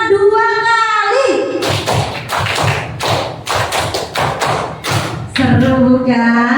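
Hands clapping out a five-beat clap game twice, a rhythmic run of firm claps and thumps between stretches of a woman's speech.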